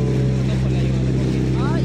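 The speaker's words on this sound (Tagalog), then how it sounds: "Pinainaan na yung makina guys" A motorboat engine throttled down while nearing a rock formation at Caramoan, Camarines Sur gives off a steady, loud low drone with a deep harmonic hum, and a voice talks over it.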